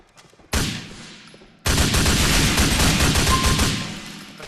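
Heavy gunfire in a video game: one sharp burst, then after a short pause a dense, sustained fusillade of overlapping shots that stays loud and close for several seconds before slowly tapering off.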